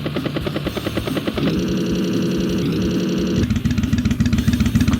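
A loud, steady video game attack helicopter rotor thump and engine drone that shifts pitch a few times, continuous with no talking.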